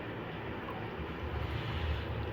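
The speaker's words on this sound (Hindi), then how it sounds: "पानी के अंदर बॉयल आ रहा है।" Water comes to a boil in a cooking pot for beef nihari, giving a steady, low, rushing bubble and hiss at moderate level, alone and unbroken.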